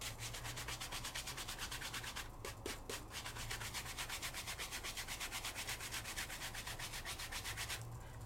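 Excess glitter is brushed off a paper die cut with quick, rhythmic back-and-forth strokes, a close, soft scratchy rubbing that continues steadily with a short pause partway through.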